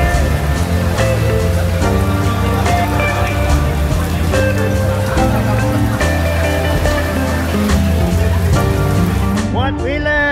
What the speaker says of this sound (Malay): Nasib baik hujan turun selepas kita dah habis kayuhan.